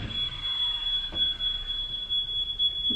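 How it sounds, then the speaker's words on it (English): A smoke alarm set off by skill saw use during home flooring demolition sounds a high, thin electronic tone steadily throughout, with low rumbling noise underneath and a brief thump partway through. "Every time he uses the skill saw, the fire alarm goes off."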